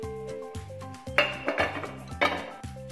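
Clinks and scrapes of a metal pan and utensils ring out as an egg noodle pizza is flipped from the pan onto a plate, with several sharp clattering hits in quick succession.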